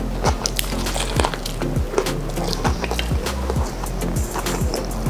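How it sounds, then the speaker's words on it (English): Crunchy bites into a homemade copycat Popeyes spicy fried chicken sandwich, a run of sharp close crackles and chewing crunches repeating every half second or so, with no talk. "Oh man, you can just hear that crunchiness."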